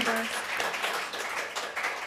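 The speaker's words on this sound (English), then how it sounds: "And a little clap for you." Audience clapping for guests at the close of a Melbourne Conversations public talk event, a dense spread of hands filling the room for a couple of seconds, with a voice speaking over it.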